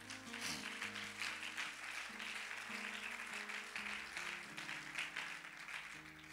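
A church congregation claps in praise during a sermon. Steady, dense applause runs the whole time, mixed with sustained keyboard and bass chords that carry on underneath.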